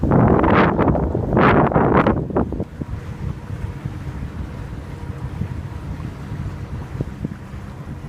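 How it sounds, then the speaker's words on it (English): Wind buffeting a catamaran heading out through a seaway to sea, loud gusty roaring across the microphone at first, easing into a lower steady rush of wind and water. "A bit windy, I'm sorry"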